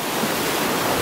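Sea waves wash continuously onto a sandy beach at Lara, Antalya, a broad, steady roar of surf at close range, with no voices over it.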